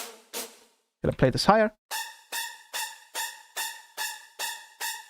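Phase Plant synth preset built to emulate strings, repeating short plucked-decay notes in a steady rhythm after a brief spoken line over a couple of opening notes.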